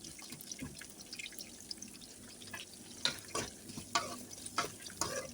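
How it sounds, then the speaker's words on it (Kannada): Pieces of bitter gourd fry in a generous amount of oil in a pan, giving a soft, continuous sizzle with scattered crackles and scraping stirs that grow louder toward the end. "ಇವಾಗ ಎಲ್ಲ ಹಾಗಲಕಾಯಿನ ಹಾಕಿ ಎಣ್ಣೆಯಲ್ಲಿ ಫ್ರೈ ಮಾಡ್ಕೋಬೇಕು."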